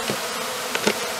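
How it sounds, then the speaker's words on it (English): A soft, steady honeybee buzz hums throughout, with a couple of brief louder swells near the end, as of bees moving close by during hive mite monitoring. "I'll return the bees that I'm not using"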